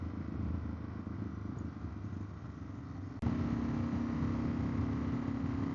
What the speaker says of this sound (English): The exhaust isn't too noisy. It's got a nice throaty sound to it.